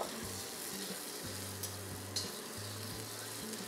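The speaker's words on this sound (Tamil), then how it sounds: "4-6 காஞ்ச மிளகாய் போட்டு இங்கே நறுக்கி வச்ச வெண்டைக்காவை இந்த ஆயிலில் கொட்டுங்க." Chopped okra tumbling into hot sesame oil with dried red chillies, giving a steady close sizzle and crackle with stirring scrapes, no voices.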